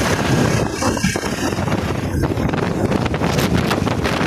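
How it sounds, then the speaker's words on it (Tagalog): Heavy wind buffets the microphone in a constant loud rush during a motorcycle ride, with gusty roaring and no clear voices. "Oh, lakas ng hangin."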